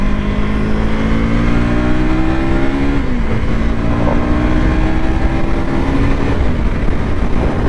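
A 2024 KTM Duke 250 motorcycle pulls hard in second gear, its loud, close engine drone holding steady while the pitch climbs, eases and climbs again, with no talk over it.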